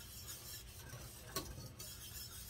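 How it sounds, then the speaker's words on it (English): Banana pudding mixture being whisked in a pot, a steady soft scraping and stirring with a brief sharper clink near the middle. "let's get it all whisked around"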